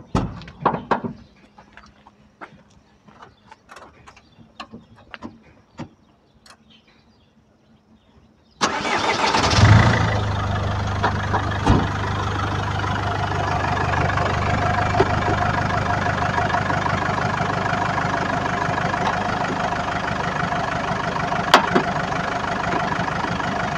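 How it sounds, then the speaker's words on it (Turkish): A car engine cranks and catches partway through, then settles into a steady, loud idle, running as the donor vehicle with a charged battery for jump-starting another car's battery. Faint clicks and knocks come before the start. "Bir marşa basalım."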